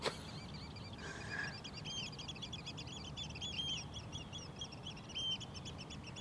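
Little birds calling in rapid twittering runs by the Westerschelde waterfront at sunset, quiet and continuous over a low ambient rumble, with a brief louder tone near the start.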